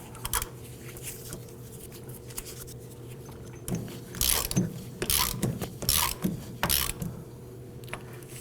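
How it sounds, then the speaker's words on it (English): Quick, clicking ratchet bursts come from tightening the axle nut on a 2008-2011 Ford Focus, up close, with sparse clicks at first and then several louder runs of rapid pawl clicks. "Install the axle nut. And let's go ahead and tighten it down."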